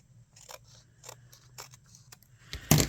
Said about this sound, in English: So let me trim that off real quick.